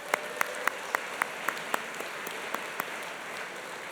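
Applause for the partners of the 2026 Halifax Business Awards, with a dense wash of clapping under a steady run of sharper, louder individual claps spaced evenly through the burst.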